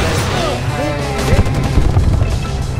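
Gunfire in the video game Far Cry 4, rapid shots and booms layered over a rumbling vehicle and a game score, with a voice shouting partly underneath, dense and loud throughout.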